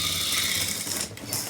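A sewing machine stitches darts and lining on a blouse in a tailoring workroom: a steady, close, dense mechanical whir running throughout, easing slightly near the end.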